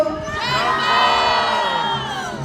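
A crowd of children shouts a macaw's name, Jumbo, together in one loud, sustained cheer at a safari park, the voices blending into a bright, continuous roar.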